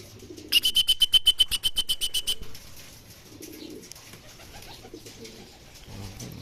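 Racing pigeons at a loft in Talavera, Nueva Ecija: a quick run of sharp rhythmic flutters and clicks, then soft low coos murmuring faintly in the background.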